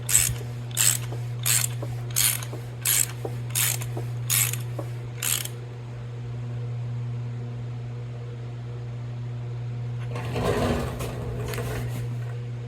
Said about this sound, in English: We'll go one time around, and then if all looks good, we'll torque it down.